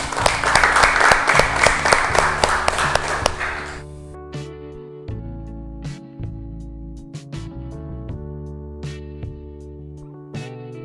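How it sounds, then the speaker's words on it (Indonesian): A class of schoolchildren claps loudly for about three and a half seconds after a group discussion presentation. The applause then stops abruptly and sustained tonal notes with occasional taps ring on in the quiet room. "Mari kita berikan tepuk tangan yang meriah."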